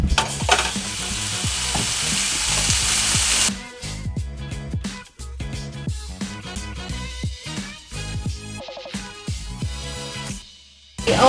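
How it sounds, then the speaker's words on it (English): Ground meat fries in a pan, starting as a loud, dense sizzle before it drops to a quieter crackle with scraping and stirring clatter up close. "So we're gonna get the meat cooking."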